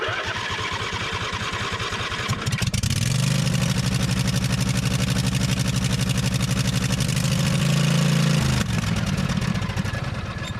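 A John Deere D140 lawn tractor engine cranks, fires and catches, then runs at a loud, steady throb for several seconds before the note shifts and cuts back, heard close up with no talking.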